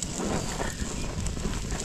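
A campfire burns in a forest, giving off a close, steady crackling hiss with no speech over it.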